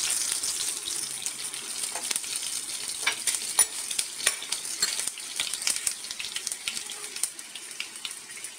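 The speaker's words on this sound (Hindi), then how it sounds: "हींग डालेंगे और हरी मिर्च डालेंगे। कुछ सेकंड के लिए भूनेंगे।" Asafoetida and green chillies fry briefly in a pan for smoky dal fry with a bright, crackling sizzle and scattered pops and stirring taps. The sound is close and steady with no speech.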